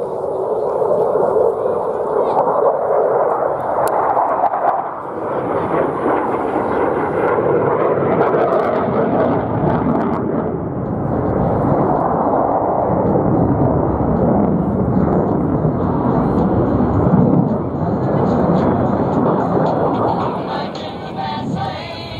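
An F/A-18 Super Hornet jet flying an airshow demonstration at Sun 'n Fun 2024 gives a loud, continuous engine roar that swells and recedes as the jet passes.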